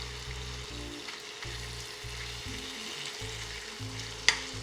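Chicken pieces fry and sizzle steadily in a hot pan for a halal chicken-and-fries dish, a continuous close crackle with occasional stirring and one sharp clink near the end, with no talking.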